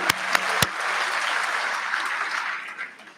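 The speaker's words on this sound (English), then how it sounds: "So big round of applause for the faculty and the" A graduation audience applauds faculty and staff, opening with a few sharp, close claps before settling into a broad, even wash of many hands that tapers off near the end.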